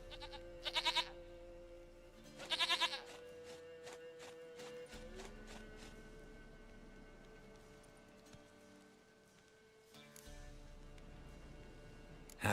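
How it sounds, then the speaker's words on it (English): Goat bleating in The Witcher 3: Wild Hunt, two short bursts early on over a steady background of game ambience and music, with faint clip-clop of hooves. "Goat of mine, dearest,"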